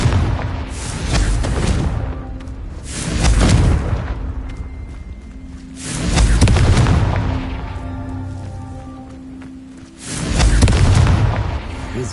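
In Hogwarts Legacy, Confringo fire spells go off as a series of heavy booming blasts, about four loud explosions spaced a few seconds apart, each rumbling out before the next.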